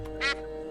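A cartoonish duck quacks once, short and bright, in the adventure game Monkey Island 4, standing out against a steady layer of background game music.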